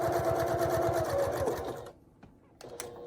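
A sewing machine with needle-down stitches a fabric heart pouch in small stitches, a fast, steady mechanical chatter up close that slows and stops after about two seconds, followed by a few faint clicks.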